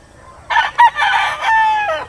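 A brood stag rooster crows loudly and close by in one long, strained call with a brief break partway through, and no voices are heard.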